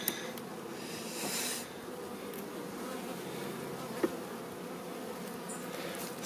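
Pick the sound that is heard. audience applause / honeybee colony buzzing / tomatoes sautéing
honeybee colony buzzing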